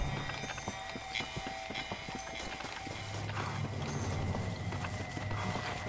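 Hooves clip-clop at a steady gallop as a zombie horse runs in the Red Dead Redemption undead nightmare game. A continuous dense game soundscape sits behind the rhythmic hoofbeats, which grow slightly heavier toward the end.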